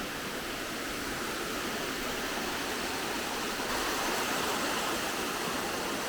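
A waterfall in Thailand roars as a steady, dense rush of falling water, loud and unbroken throughout, with no voices over it.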